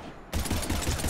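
Rapid automatic gunfire in the video game Mass Effect 3 bursts in after a short quiet lead-in, a dense loud stream of shots that runs to the end.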